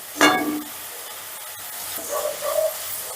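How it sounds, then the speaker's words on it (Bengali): Shredded potatoes frying in hot oil for a Bengali jhuri aloo bhaja, with a sharp sizzle burst at the start that settles into a steady low crackle, and brief bubbling hisses near the end. "এবারে একটু নাড়াচাড়া করে আলুগুলো ভেজে নেব"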